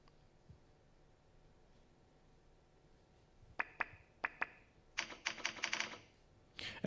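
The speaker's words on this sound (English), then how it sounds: "And once again, you just type with your keyboard." Keys on a computer keyboard click in short irregular bursts after a quiet stretch, crisp taps that grow into quick clusters of typing, close and fairly faint with no speech.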